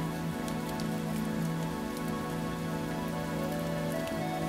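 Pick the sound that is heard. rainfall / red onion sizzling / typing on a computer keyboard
rainfall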